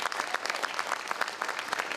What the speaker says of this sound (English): Give them another round of applause for doing the work they've done.